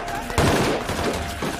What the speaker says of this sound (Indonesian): terjadi kembali baku tembak di wilayah musuh